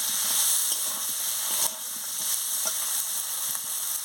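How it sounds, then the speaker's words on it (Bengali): Fish pieces are stirred in hot oil with chilli and turmeric powder for a Bengali fish curry, giving a steady bright sizzle and hiss with occasional scraping stir sounds, close and continuous. "লঙ্কার গুঁড়ো দিয়ে দিচ্ছি, হলুদের গুঁড়ো দিয়ে দিচ্ছি, দিয়ে ভালো করে নাড়িয়ে নিচ্ছি।"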